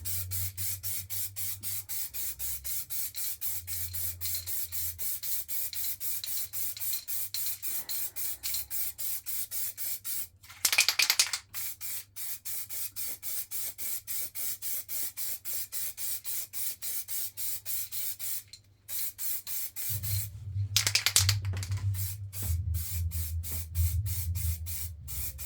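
Spray paint from aerosol cans lays a thin coat on a prop Sparda demon sword, a long run of close, steady hissing bursts with short pauses between passes, no talking.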